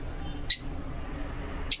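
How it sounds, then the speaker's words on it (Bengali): Lovebirds kept in a colony on a bird farm give two sharp, loud squawking bursts over a steady low background murmur. "এই দেখেন পাখিগুলো অনেক অনেক চেঁচামেচি করতেছে"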